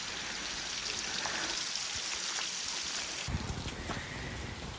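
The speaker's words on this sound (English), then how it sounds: "it is raining" Steady rain falls at a campsite and drips off an awning, a dense continuous patter with a heavier burst of drips toward the end.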